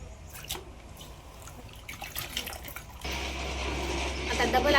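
Washed wheat drains in a sieve, water dripping and trickling softly at first, then a louder steady gush of pouring water.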